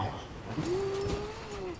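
A superpowered dog in a blizzard gives a drawn-out, rising whimper over a steady windy background, clear and fairly close.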